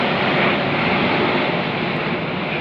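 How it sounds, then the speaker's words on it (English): A fixed-wing airplane passing low overhead, a loud, steady broadband roar that fills the whole moment with no voices over it. "the plane goes over my head"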